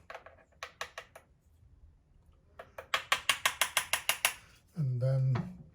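A Delonghi EC680 espresso machine gives a run of sharp mechanical clicks, first sparse then a quick even series, followed by a short low humming whir, close and fairly quiet.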